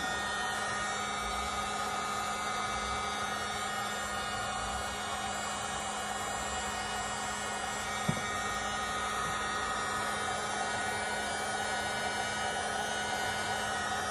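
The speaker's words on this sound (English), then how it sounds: "I use the heat gun." A heat gun blows a steady, loud airflow hiss with a low hum while warming a tight carpet-cleaning solution hose to soften it, with one brief click partway through and no talking.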